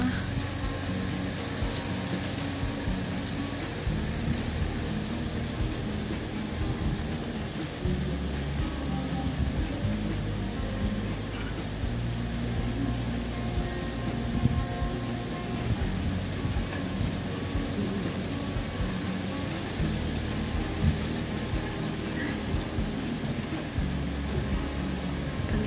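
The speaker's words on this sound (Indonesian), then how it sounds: "hujannya sekarang udah mulai dan angin pun mulai lagi hujannya pun mulai lagi" Heavy storm rain with strong wind pours steadily in Hong Kong with a dense hiss, heard from a house yard, and low rumbles suggest distant thunder throughout a long, unbroken stretch.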